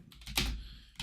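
A few quick keystrokes on a computer keyboard, close and fairly quiet, with one sharper clack in the middle and a last tap at the end, and no speech.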